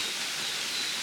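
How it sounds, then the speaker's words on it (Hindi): Steady rushing water noise, a continuous broadband hiss like a small waterfall flowing nearby, with no voices. "इसके पास में एक और छोटा सा झरना बह रहा है, इसकी आवाज़ आप सुन पा रहे होंगे।"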